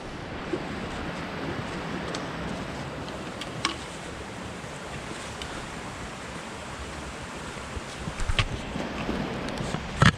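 A stream flowing below a beech forest, heard as a soft, steady wash of running water with faint wind, continuous and fairly distant, with a few brief knocks and rustles near the end.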